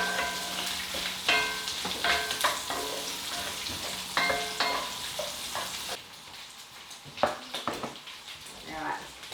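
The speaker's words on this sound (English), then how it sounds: "Okay, the gizzards are starting to fry up." Chicken gizzards from homestead roosters frying in rendered fat in a pan, with a crackling sizzle and repeated scraping stirs of a utensil, the bubbling thinning out toward the end.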